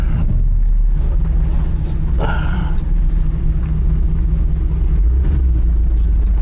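A 1989 GMC Sierra 3500 square-body truck idles with a steady, loud low engine rumble throughout, a brief higher whine rising midway over the running motor.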